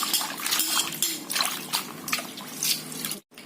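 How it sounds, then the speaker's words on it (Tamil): Dried anchovies are rinsed by hand in a bowl of fresh water to wash out sand. Repeated close sloshing and splashing comes in uneven bursts, with a brief silence near the end. "இந்த பச்சை தண்ணியில போட்டு 3-4 தடவை கழுவி எடுக்கணுங்க. அப்பதான் இந்த மணல் எல்லாம் போகும்."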